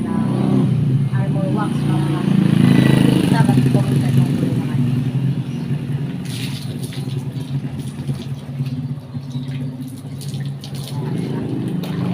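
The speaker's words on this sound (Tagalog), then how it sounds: "So ngayon, babanlawan na natin." Water splashes and streams steadily over a motorcycle during a rinse after soaping, a continuous hissing spray with a voice talking over it.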